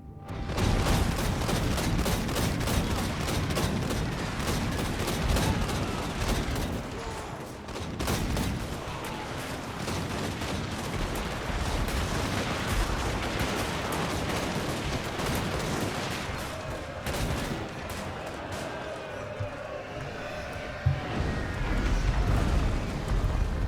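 Hellblaster volley guns firing in Total War: Warhammer 2, a dense continuous battle din of overlapping volleys and cannon-like booms, loud and sustained throughout with no gaps, massed gunfire rolling across a mountain pike-and-shot fight.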